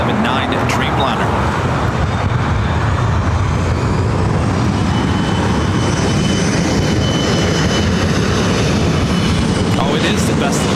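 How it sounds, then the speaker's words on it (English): A KLM Boeing 787-9 Dreamliner bound for Amsterdam at LAX, its jet engines a loud, close, continuous roar with a high whine, while someone talks over it. "KLM Flight 604 heading back to Amsterdam in the 787-9 Dreamliner."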